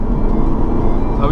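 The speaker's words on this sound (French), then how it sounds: "petit départ arrêté vite fait, voir comment ça chante" An Audi pulls away hard from a standstill, its engine a loud, steady low roar throughout, with a rising whine near the end, as someone talks over it.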